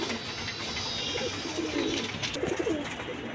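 Lal Patti and silver pigeons coo softly in a loft, a few low murmuring coos standing out against a hissy background of other birds and ambient noise.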